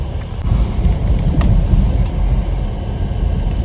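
A car creeping carefully along a snowy street with deep uncleared ruts, its close, steady engine rumble and heavy low-end road noise continuous, with occasional thumps and creaks.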